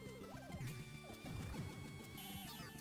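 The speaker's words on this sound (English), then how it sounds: "the glass hits me after it breaks" Glass shattering in the Turbografx-16 game Magical Chase, a dense clattering burst of crashing shards and jangling noise layered over busy game music, continuous and loud for the whole stretch with no voices.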